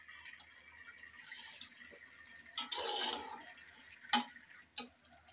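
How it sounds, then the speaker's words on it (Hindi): Water is poured into a pressure cooker in a home kitchen: a short splashing burst lasting under a second, followed by a couple of sharp clinks against quiet background room noise. "मैं पानी डाल दूँ प्रेशर कुकर में"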